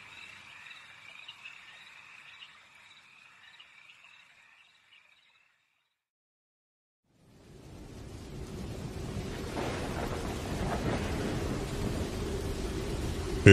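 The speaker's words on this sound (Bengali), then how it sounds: "মুষলধারে বৃষ্টির সঙ্গে শোঁ করে বইছে উত্তাল হাওয়া।" Staged storm effect: frogs and insects trill faintly, a brief silence follows, then heavy rain and strong wind surge in as a dense, building roar with low rumbling thunder underneath.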